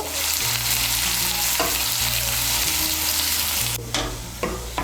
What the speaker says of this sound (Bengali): আঁচটাকে মিডিয়াম করে পেঁয়াজটাকে লাল করে ভেজে নেব।